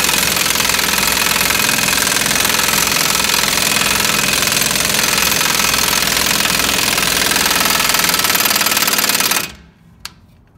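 A loud, continuous power-tool roar runs for about nine seconds while a lug nut is tightened with a socket to press a wheel stud into place. The noise then cuts off abruptly, leaving a single clunk.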